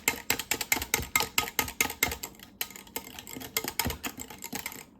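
A wire whisk is worked by hand in a bowl, beating fast and evenly with rapid clicking strokes, close and crisp, with one brief pause before it picks up again.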